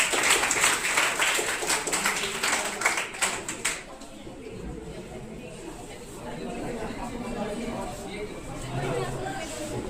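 Applause from a quiz audience at a Bihar Day event: a few seconds of dense clapping that trails off into murmuring crowd chatter and room noise.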